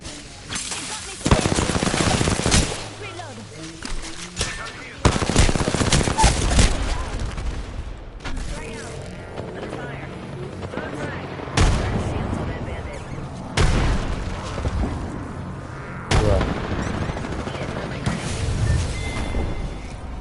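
Repeated bursts of gunfire in the online battle game Apex Legends, loud and close, with rapid automatic volleys, single shots and booming hits spread across the whole stretch, alone without talk.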